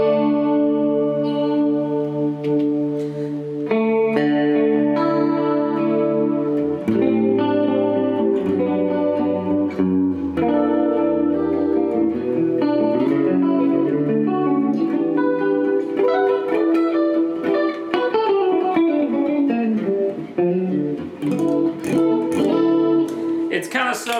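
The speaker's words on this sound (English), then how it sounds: "So right out of the gate, I've got my chorus sound in here." Electric guitar through a Strymon Mobius pedal set to chorus, plucked notes and chords shimmering with a wavering, doubled modulation, played loud and up close for the full stretch with no talking.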